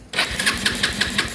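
Bajaj Rouser 220 motorcycle engine turning over and catching, a close, loud start with a rapid uneven firing rhythm, running alone after a brief silent moment.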